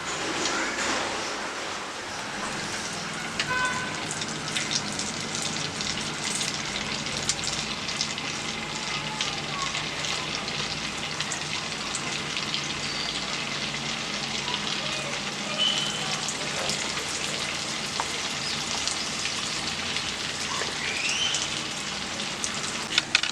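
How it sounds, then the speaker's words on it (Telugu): Cabbage manchurian balls deep-fry in hot oil, giving off a steady, dense sizzle and crackle like light rain that runs on evenly throughout. "మిగిలిన బాల్స్ అన్నీ కూడా ఇలాగే ఫ్రై చేసుకుందాం అండి"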